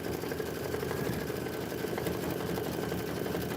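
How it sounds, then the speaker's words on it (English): A sewing machine stitches a pillow square in a steady, continuous whir with a fast mechanical rhythm, close and even throughout with no talking. "let it stitch while it's stitching"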